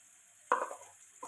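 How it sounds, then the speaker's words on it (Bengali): Turmeric, chili powder and salt get stirred into boal fish and potatoes in a pan for a curry: one sharp scraping sizzle burst, then a quieter fading tail and a brief second scrape. "এটা ভালো করে কষাতে থাকবো।"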